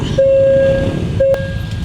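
A railway track inspection train passing a level crossing in Thailand sounds its horn in one long blast and then a shorter one, loud and near over a steady rumble.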